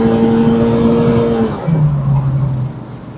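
A Mitsubishi Pajero Mini kei car strains at full throttle in a drag test, engine whining high near 7,000 RPM, then a gear change drops the pitch before it climbs slowly again, loud and close.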